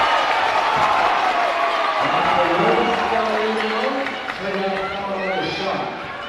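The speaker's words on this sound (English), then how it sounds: "Crowd getting into it here" Spectators at a high school boys basketball game cheer and roar, a swelling indoor crowd noise that rises and stays lively, with voices and shouts layered through it.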